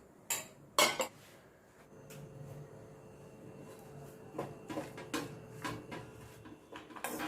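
Fried chicken tossed with mayonnaise, onion, cabbage and carrot in a bowl, with sharp clinks and scrapes of a spoon against the bowl in uneven bursts.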